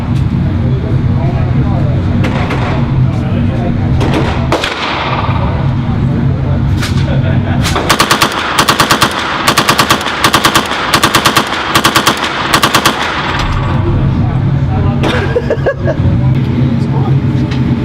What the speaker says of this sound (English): we just got done shooting some machine guns